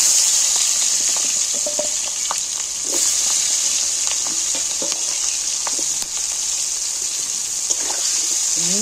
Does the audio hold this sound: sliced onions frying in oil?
yes